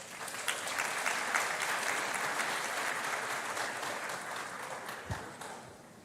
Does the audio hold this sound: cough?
no